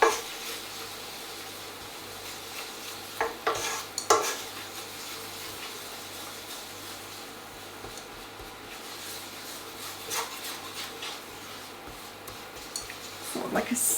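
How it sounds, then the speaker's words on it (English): Flour stirred into a hot pan of coq au vin base, a steady sizzle under continuous scraping and stirring, with scattered spoon-on-pan knocks and a louder clatter near the end. "And then you add in your flour. Give that a good stir around"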